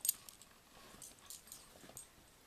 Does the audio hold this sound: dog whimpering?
yes